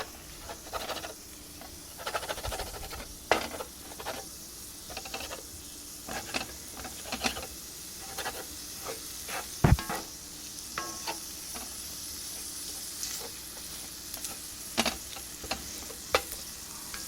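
Sausage taken out of its casing fries in a pan like ground beef, making a steady close sizzle. Scraping stirs and light taps come at an irregular pace throughout, with no voices.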